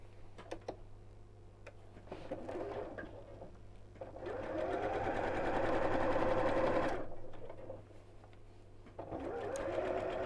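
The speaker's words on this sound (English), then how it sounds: "And then we're going to sew across here and across here." A sewing machine stitches across quilt-as-you-go blocks in short runs, its rapid mechanical chatter swelling for a few seconds between quieter pauses and ticks, close and without speech.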